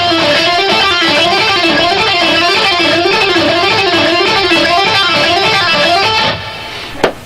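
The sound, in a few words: electric guitar playing a picked, pull-off and hammer-on sequence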